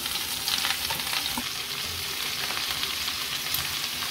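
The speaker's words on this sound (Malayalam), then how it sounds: "നമുക്കിതിലേക്ക് സവാള ചേർത്ത് ഇളക്കി കൊടുക്കാം" Sliced onions frying with garlic in hot oil for egg biryani, a steady broad sizzle with soft intermittent stirring scrapes throughout, close and continuous with no talking.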